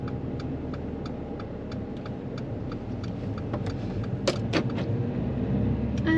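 A car pulling away from a stop during a driving test, with a steady indicator ticking over a low engine hum that rises as the car moves off, recorded inside the cabin.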